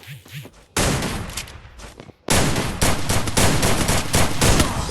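Shotgun fire in the Free Fire video game comes as loud, close bursts of rapid blasts that break out after a brief lull and continue densely to the end.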